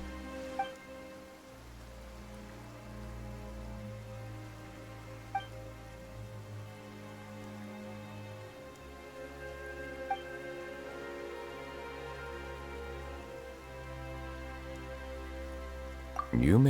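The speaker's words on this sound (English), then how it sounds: "Why is it raining all of a sudden?" Steady rain falls in Genshin Impact, a soft continuous patter under a tonal music bed, with a few brief sharper accents and no voices.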